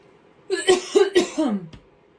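A short fit of several close coughs in rapid succession, ending in a brief throaty clearing, with no talking.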